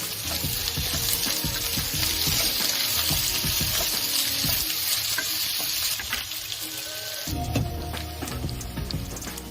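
Chopped potatoes and curry leaves frying in hot oil in a pan for Indori poha, a loud, continuous close sizzle with occasional stirring scrapes.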